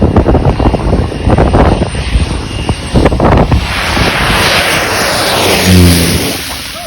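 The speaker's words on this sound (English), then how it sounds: "Imagine that plane coming that fast hitting you in the head." A small Winair propeller airplane roars past close overhead, its engine loud and rumbling, then fading away with wind buffeting the microphone.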